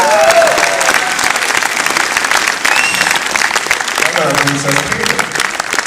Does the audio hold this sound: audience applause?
yes